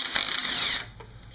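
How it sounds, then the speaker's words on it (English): A half-inch cordless impact wrench tightening golf cart spring bolts gives one short, loud burst of high, buzzing hammering that stops abruptly, followed by a quiet tail. "Half inch impact, cordless impact is the way to do this."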